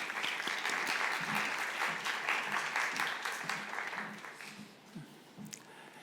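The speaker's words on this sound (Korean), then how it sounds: "교수님 나오실 때 우리 박수로 환영의 인사를 대신하겠습니다" Audience at a Sunday youth worship service in a church applauds to welcome a guest professor, dense clapping that holds steady, then thins and tapers into scattered claps near the end.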